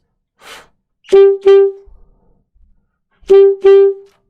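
An alto saxophone plays four short accented staccato notes in two pairs, each a clipped, sharp attack with a breath pause between pairs; close and clear, with no talk over it.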